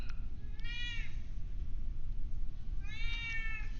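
A domestic cat meows twice, each call a rising, drawn-out cry about a second long, separated by a pause, heard fairly close over a steady low background hum.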